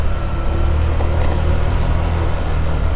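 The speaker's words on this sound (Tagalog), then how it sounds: "Kung narinig nyo yung tunog ng NMAX" Yamaha NMAX scooter engine running steadily, a close, loud low hum with a faint higher whine, continuous and unbroken, no voices.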